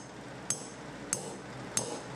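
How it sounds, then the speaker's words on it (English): Three light, evenly spaced hammer taps, about six tenths of a second apart, seat a valve oil seal onto its guide during a Nissan 240SX KA24DE cylinder head build; crisp metallic clicks over a quiet room hum. "and then we'll tap it on with a hammer."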